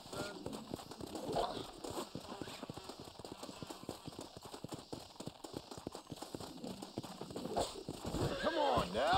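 A horse in the Red Dead Redemption video game, during a horse-breaking job, clops its hooves steadily and whinnies, with the sounds swelling louder toward the end.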